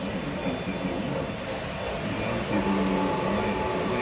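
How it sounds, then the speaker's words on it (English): An O gauge Rio Grande model train runs at a train show in North Platte, Nebraska, with a steady rolling rumble and rail clatter under constant hall noise, no talk. "Oh, Rio Grande train. There you go."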